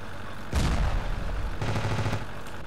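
Gunfire in the video game Ravenfield, two loud bursts of rapid shots, the first sharp and booming, the second a fainter rattling volley, with no talk over them.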